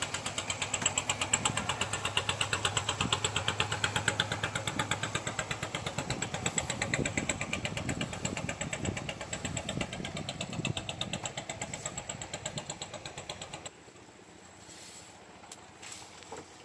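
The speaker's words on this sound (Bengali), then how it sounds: "দেখুন একটা ট্রলারে একা একজন মানুষ সে মাছ ধরে চলে আসছে" A fishing trawler's engine runs steadily with a dense, throbbing drone for most of the stretch, then drops away abruptly near the end, leaving quieter ambient sound with a few faint knocks.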